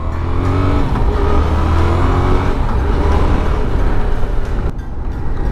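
A Yamaha XSR 700 motorcycle engine accelerates on a first ride, a loud, steady rising drone with rushing wind noise that runs continuously before cutting off sharply near the end.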